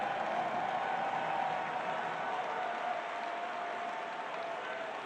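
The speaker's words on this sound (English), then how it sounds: "Crowd well up for shouting the name of Longwane" Stadium crowd at a Minnesota United versus Philadelphia Union US Open Cup match roaring and chanting after a goal, a dense, sustained wall of cheering and shouting that stays loud and steady throughout.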